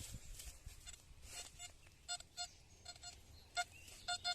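Short electronic metal detector beeps sound intermittently, a few isolated tones then quicker clusters, faint against a quiet rustling background, in Bavaria.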